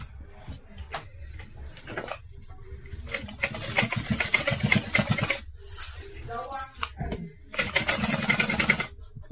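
Sewing machine running in bursts while stitching a folded bag seam with half-inch allowance, a steady close mechanical whir that starts and stops several times with pauses between runs.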